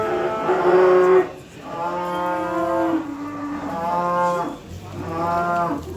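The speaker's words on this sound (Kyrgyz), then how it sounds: "5-6 айлык музоолор." Five- to six-month-old calves moo at a livestock market near Bishkek, giving several long, close, loud calls one after another with short pauses between them.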